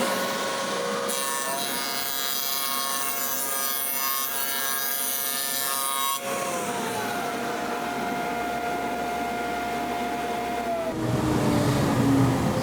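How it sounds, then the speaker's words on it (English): A table saw fitted with a Dewalt 7670 dado blade cuts a rabbet in cabinet grade plywood, giving a loud, sustained whining grind with a steady motor tone that shifts in pitch as the cut ends. "Okay, now we've got a little bit of cabinet grade plywood, and we're just gonna cut a rabbet."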